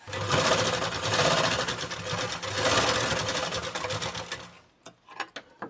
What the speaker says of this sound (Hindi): आधा इंच मार्जिन देते हुए हमें सीधी सिलाई लगा लेनी है